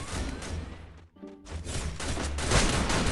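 Enemy gunfire in a sniper shooter game, dense bursts of rapid shots crackling almost nonstop with a brief lull near the middle, loud and close.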